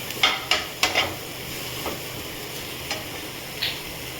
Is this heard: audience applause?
no